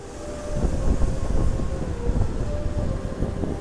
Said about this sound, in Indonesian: kereta api Sembrani itu sudah mulai terlihat ya